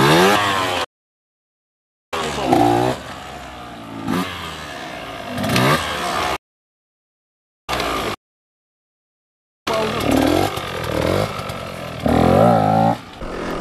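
A motorcycle engine revving hard while the rider pulls wheelies with clutch and rear brake, with loud rising bursts broken by abrupt cuts to silence and rough mechanical clatter, close and without talk.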